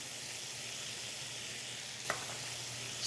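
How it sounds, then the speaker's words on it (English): Butter sizzling in a hot skillet alongside tomatoes releasing their juice, a steady close hiss with a brief sharp crackle partway through. "Add a little bit of butter here."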